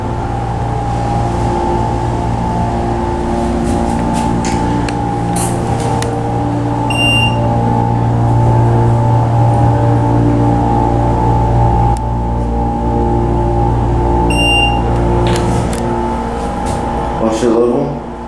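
Motor-driven glass elevator riding through the Hutchings and Sealy Building in Galveston, Texas, a steady close drone of motor hum with a constant low tone, broken by short electronic beeps at two points.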